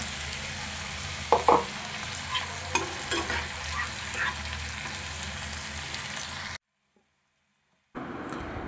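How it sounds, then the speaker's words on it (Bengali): Blended water poured into a pumpkin dish cooking in a pan with tomato paste: a steady sizzling and bubbling with a few splashy bursts, then a brief silent gap before the sizzle resumes. "এবার মিক্সি দেওয়া জলটা দিয়ে দেবো এর মধ্যে।"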